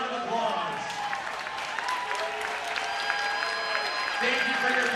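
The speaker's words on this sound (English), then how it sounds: "please stand and let's give them a round of applause" Applause from the audience at a high school girls' state swimming and diving championship, steady and sustained clapping filling an echoing natatorium, with crowd chatter and scattered voices mixed in throughout.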